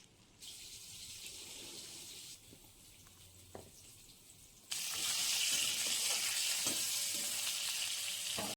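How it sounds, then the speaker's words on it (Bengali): Pointed gourd (potol) pieces frying lightly in a pan: a soft sizzle that jumps to a louder, steady hiss partway through, with a few faint clinks, no voices. "আমি পটলগুলো হালকা ভেজে নেবো"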